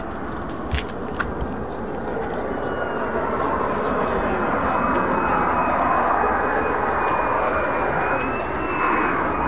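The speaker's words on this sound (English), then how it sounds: "there's more F-35s, and there's the answer" F-35 fighter jets flying overhead give a sustained jet roar with a thin whining tone drifting across it, while people talk in the background and a few sharp clicks come early on.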